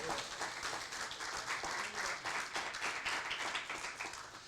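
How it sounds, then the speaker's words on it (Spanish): A church congregation claps and applauds in a steady, dense wash of hand claps filling the room, with no talking over it. "Denle un aplauso a Cristo."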